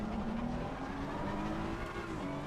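BMW race car in wet conditions in Assetto Corsa Competizione, engine droning loud and steady while its rear wheels spin, the pitch climbing gently with a continuous smeared tire hiss underneath, heard up close.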